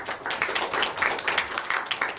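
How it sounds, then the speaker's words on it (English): Audience applause fills a hall at PyConHK 2018, a Python conference in Hong Kong, as a speaker is welcomed to give a talk: steady, dense clapping from many hands, loud and continuous for the whole stretch. "let's give him a big round of applause."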